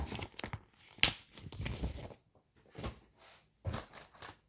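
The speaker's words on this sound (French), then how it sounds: "Désolée si vous entendez du bruit, c'est le papier qui se décompresse dans la pochette" Embroidery paper decompressing inside a pouch gives off close, quiet bursts of crinkling and crackling, starting and stopping irregularly with brief pauses between rustles.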